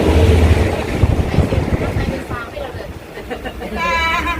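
A passenger train rumbles along with steady low mechanical noise and rattling carriages, heard from inside the carriage while someone talks over it.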